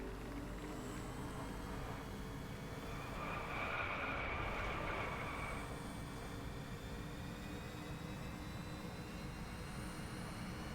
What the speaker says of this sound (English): It's so weird driving a car without a proper engine sound.